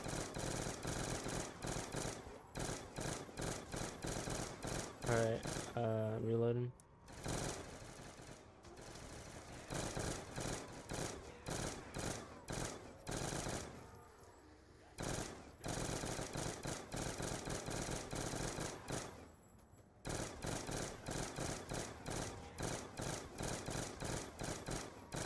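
Rapid video game gunfire rattles in long dense bursts from a Sally pistol during a round 30 speedrun, near-continuous sharp shots broken by brief pauses, loud and without talk.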